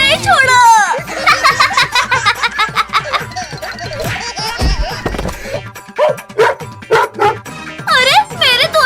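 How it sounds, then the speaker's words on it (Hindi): Cartoon dog barking repeatedly while chasing characters in a comedic chase, loud and energetic, mixed with excited cartoon voices, laughter and children's chatter throughout. "ये कुत्ता आज हमें नहीं छोड़ेगा"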